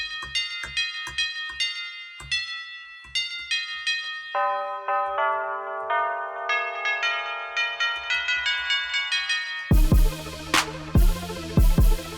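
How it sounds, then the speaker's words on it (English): A sampled church bell in a grime beat rings in a repeated pattern of struck tones stepping through several pitches, bright and resonant with long ringing tails, then joined near the end by heavy beat hits. "I like church bells, these ones are alright."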